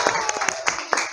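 Children in a classroom clap briefly in a quick, uneven burst of separate hand claps, close and fairly loud, with a voice speaking over them.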